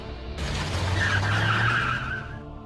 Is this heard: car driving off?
yes